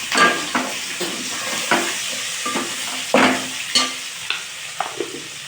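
Cooked vegetable pieces fry in a pan as chili powder goes in, with a steady sizzle broken by repeated close scraping and stirring knocks from a spoon.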